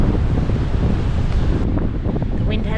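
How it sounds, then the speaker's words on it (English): Strong wind buffeting the microphone on a beach in Denmark, a loud continuous roar and rumble with surf in the background, no voices. "The wind has beaten us"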